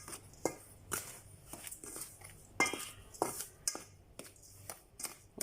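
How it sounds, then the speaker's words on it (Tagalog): Banana cake batter made with overripe bananas and baking powder is stirred by hand in a bowl, a quiet, close scraping with irregular clinks of the utensil against the bowl, no voices. "Haluin natin."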